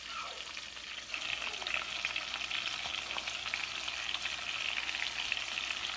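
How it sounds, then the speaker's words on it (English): Six cloves of chopped garlic hit a hot pan for Chicken Vesuvio and fry with a loud, continuous sizzle that swells slightly after the first second and holds steady, close and alone. "I'm also going to go ahead and add our garlic. Remember, this is 6 cloves of chopped garlic."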